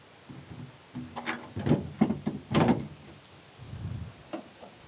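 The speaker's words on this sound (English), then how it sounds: "you can also come up here, unlatch, and drop your bed side" On a 1994 Subaru Sambar truck, a bed side is unlatched and dropped: metallic clunks and rattles land in several bursts, then a softer scrape, all close and with no talking.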